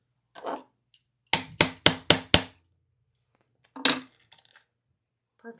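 A hammer strikes a rivet through a leather pad on a leather luggage strap buckle: a few scattered taps, then five rapid, sharp blows close up, followed by one more strike and a few faint touches.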